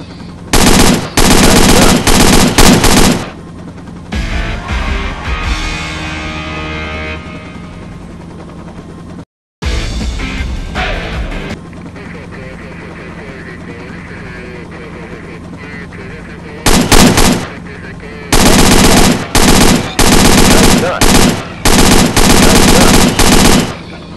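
Bursts of rapid gunfire ring out from a helicopter during a hog hunt, loud clustered volleys separated by quieter stretches of rotor drone, with a short break midway and heavy firing returning toward the end.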